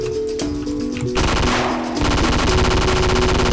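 Gunfire in a Roblox hood game, rapid automatic bursts of shots rattling in quick succession, loud and close, growing denser and continuing steadily without talk.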